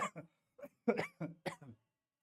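A string of short, dry coughs in quick succession, close and fairly quiet, with brief pauses between bursts and no other sound.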